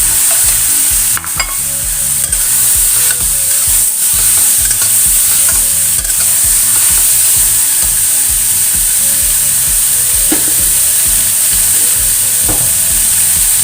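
Green beans stir-fried in a pan, with a loud continuous sizzle and the steady scrape and clatter of stirring throughout, no voices.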